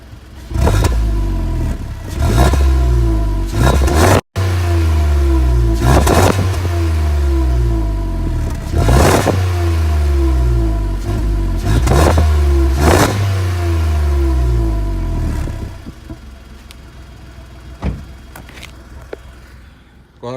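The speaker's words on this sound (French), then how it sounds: "je vais vous faire écouter le son du 4 cylindres en ligne, développé par Subaru" A Subaru inline four-cylinder engine, fitted with a single decat pipe, revs hard at the exhaust in repeated loud bursts, about six sharp blips rising and falling, close up and alone, settling to idle near the end with faint popping.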